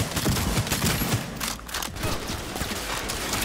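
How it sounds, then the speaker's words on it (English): Gunfire from weapons in the video game Cyberpunk 2077 rattles in rapid bursts, a dense fusillade of sharp cracks at moderate loudness, tapering briefly before picking up again. "God, these sounds for these guns."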